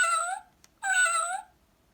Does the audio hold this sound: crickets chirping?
no